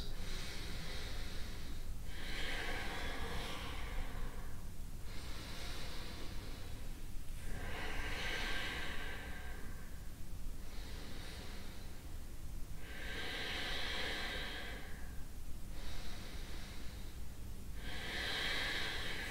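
Deep, slow yoga breathing in a beginner men's class for tight hamstrings, a steady cycle of about eight long airy inhales and exhales, each rising and fading in a regular rhythm, close and fairly loud with no talking.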